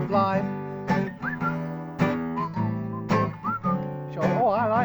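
Whistling of a tune, with short wavering whistled phrases over a louder accompaniment of sustained, rhythmically struck instrumental notes.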